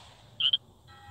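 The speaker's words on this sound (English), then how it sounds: "This is a frog." Frog croak in the Crossy Road video game, a single short, high, bright double chirp standing out clearly against a faint quiet background.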